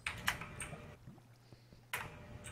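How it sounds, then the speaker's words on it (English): Quick bursts of computer keyboard typing, close and clicky, with a short pause in the middle before more keystrokes. "it's his keyboard, it's so loud"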